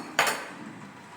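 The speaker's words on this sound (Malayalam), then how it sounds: "അപ്പോൾ നമ്മൾ സേമിയയിലേക്ക് വറവിടുകയാണ് ഇതിലേക്ക് എന്നിട്ട് അപ്പം തന്നെ ഒന്ന് ഇളക്കണം" A spoon clinks sharply against a cooking pot while fried tempering is stirred into carrot vermicelli payasam, a single close metallic knock followed by a faint sizzling hiss that quickly fades.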